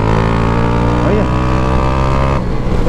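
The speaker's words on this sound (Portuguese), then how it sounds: "Só uma aceleradinha aqui pra você sentir o gostinho." A modified Honda Titan 150 motorcycle with a prepared engine, original transmission and a 32 mm XRE 190 fuel-injection throttle body drones loudly and close, holding a steady buzzing note with a brief blip of revs partway through.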